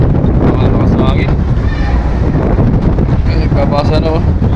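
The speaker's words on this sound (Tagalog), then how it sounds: "Malakas na hangin." Strong wind buffets a microphone aboard a crowded passenger vessel, the Starhorse XII, a steady roaring rush across the whole clip with faint whistling tones and voices in the background.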